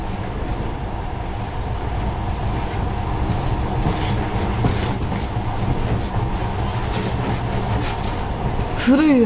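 A monorail train in the video game Metro Last Light Redux rumbles and clatters along steadily, loud and continuous, with a brief squeal near the end and speech-like sounds mixed in.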